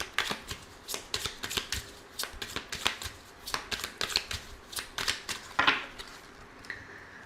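Oracle cards shuffled for a reading, a quick series of crisp riffling snaps and soft slaps in uneven bursts, close and clear with no talk.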